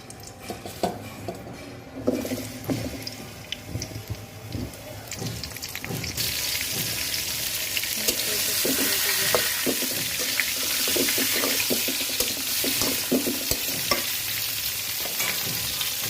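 Pointed gourds (potol) being added to a pan: first scattered clinks and scrapes of utensils against the pan, then a sudden loud, steady sizzle of frying with intermittent stirring knocks continuing to the end.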